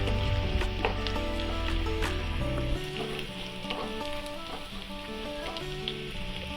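Onions frying in a pan for a fish egg masala, a dense continuous sizzle with occasional light stirring clicks, close and steady, a low hum easing off partway through.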